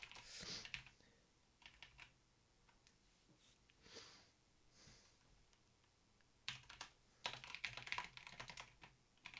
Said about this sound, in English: I really can't type today.